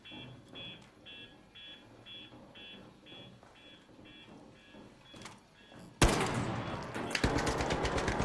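Gunfire in the video game ARC Raiders: quiet rhythmic beeping and distant activity give way to a sudden loud burst of sustained automatic fire over the last two seconds, close and harsh.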